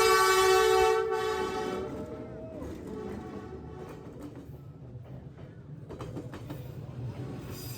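A train rolls through Hanoi's Train Street, opening with a loud horn blast that fades into a continuous rumble and clatter of passing cars, close by, with people talking around it.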